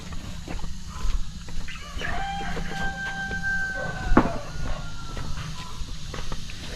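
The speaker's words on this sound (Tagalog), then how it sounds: "umatake na yung mga manok dun sa baboy natin" Chickens cluck and squawk around a pig in a noisy farmyard, with a rooster-like crowing call and scattered movement over steady outdoor background noise.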